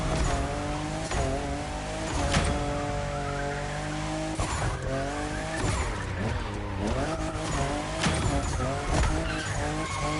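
Fifth-generation Toyota Supra racing in The Crew Motorfest, its engine droning steadily as tires squeal and skid through repeated turns; loud, continuous and close, with no voices.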